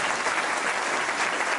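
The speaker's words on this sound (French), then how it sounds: "Je vous demande d'applaudir Serge Desports" An audience at a sports debate claps steadily in a dense, even round of applause, close and loud throughout with no voices standing out.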